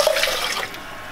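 Water splashes and runs briefly into a cooking pot holding a cup and a half of rice, a short bright pour close to the mic with no talk.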